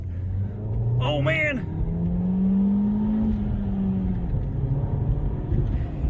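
Ford Focus Zetec engine on a test drive, a close steady drone that swells as it revs up and then settles, with a man briefly exclaiming near the start.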